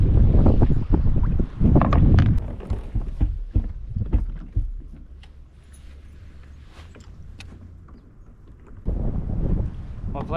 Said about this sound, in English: With winds up to 20 miles per hour, I don't even want to try.